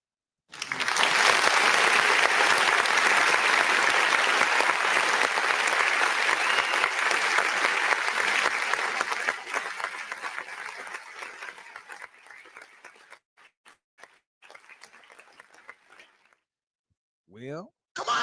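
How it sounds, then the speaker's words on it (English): An audience breaks into loud, sustained applause that slowly thins and fades out over many seconds, leaving scattered claps and a few brief cheers near the end. "Now give yourself a round of applause."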